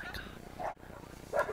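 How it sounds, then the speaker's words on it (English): Two separate barks from a dog out in a public place, fairly faint and distant, spaced apart over a steady background murmur. "Dog is causing a freaking scene."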